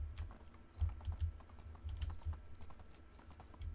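Steady clip-clop of horse hooves while riding in the Medieval Dynasty video game, a continuous trotting rhythm of soft, close thuds with no one talking.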